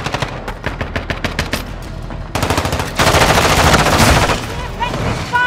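Call of Duty: Modern Warfare II gunfire rattles in fast automatic bursts that build into a loud, continuous barrage of overlapping shots, with voices briefly heard among the firing.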